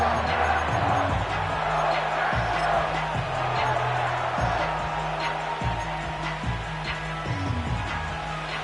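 A football stadium crowd roaring through a third-down play, a continuous dense wash of cheering and noise heard beneath ongoing broadcast commentary.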